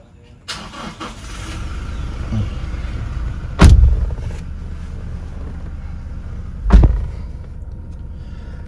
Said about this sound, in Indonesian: Kemudian kita coba hidupkan mesinnya